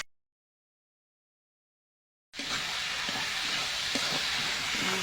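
Bathua greens and ash gourd frying in a pan with salt and turmeric, a steady loud sizzle starting abruptly after silence and holding on, with faint stirring clicks.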